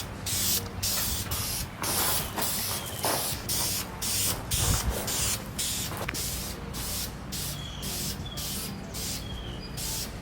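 Satin clear coat sprayed from an aerosol can onto long-tube car exhaust headers, heard as repeated short hissing bursts at an even rhythm, close and loud, with no talking.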